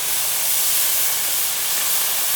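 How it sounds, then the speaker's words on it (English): Steam hisses loudly and steadily off a hot Blackstone griddle after water is poured on beside steaks and potatoes, a broad constant sizzle that fills the whole stretch without any talk. "Hit it with a little water into it."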